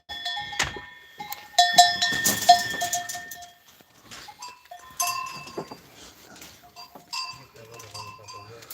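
Goats, some heavily pregnant, bleat at intervals among jangling cowbells, with people talking close by.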